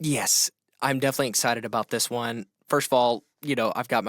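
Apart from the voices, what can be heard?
No everyday noise stands out behind the speech.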